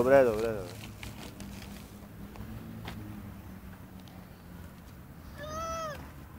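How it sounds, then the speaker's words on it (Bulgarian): A cat meows in a few rising, wavering calls near the start and again near the end, with quiet outdoor background and wind between. "Котката? Как прави котката?"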